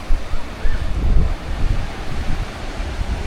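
Surf rolling in on the rocky Rapa Nui shoreline near a man-made rock barrier, a steady broadband wash with swells around the first second and constant wind noise over the microphone, no voices.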